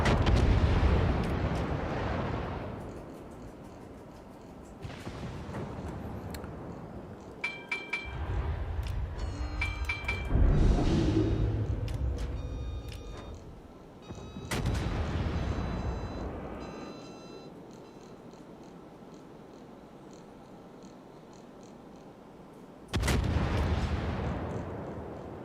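Naval guns fire in World of Warships, with several heavy, booming salvos spaced across a quiet stretch, each a deep blast with a rumbling tail, separated by calmer gaps.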